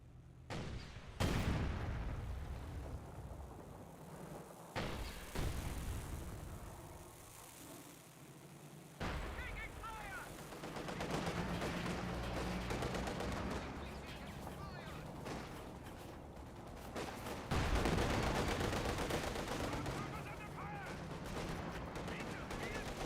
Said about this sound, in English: Katusha getting a very close range barrage, getting excellent hit on the Vikan Warfers.